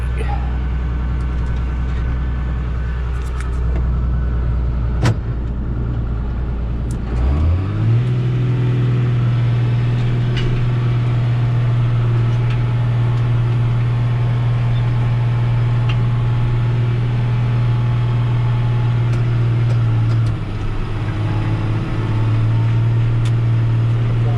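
A John Deere 7800 tractor's diesel engine runs loud and close, a deep steady drone that settles into a constant higher hum after about seven seconds and keeps going unbroken to the end.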